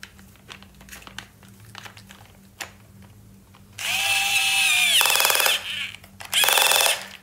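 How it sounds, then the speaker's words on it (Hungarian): A power screwdriver drives and tightens the screw on a wheel, whirring loudly in two bursts with a rising then steady whine, after a quieter stretch of light handling clicks. "Csavarhúzó!"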